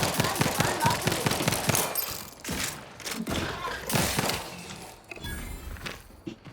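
Rapid gunfire from a weapon in Outer Worlds 2 pounds out in loud, dense bursts of shots with heavy thuds, easing briefly between volleys before a final round near the end.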